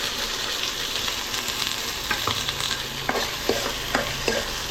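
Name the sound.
ginger garlic paste frying in a pan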